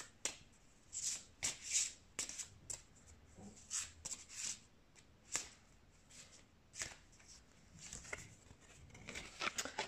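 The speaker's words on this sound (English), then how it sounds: "Let's pull some more oracle cards." Oracle cards being shuffled and drawn from a deck, heard as repeated crisp riffling bursts and soft slaps in an irregular rhythm, close and fairly quiet, with no talking.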